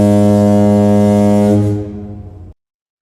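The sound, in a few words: foghorn blast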